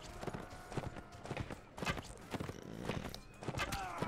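A horse gallops in the video game Mount & Blade, its hooves clip-clopping in a fast, irregular beat amid busy battle noise and a dense, loud mix.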